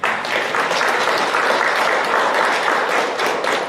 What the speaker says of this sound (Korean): 반주자, 성가대, 우리 사회자에게 박수 한번 해주시죠.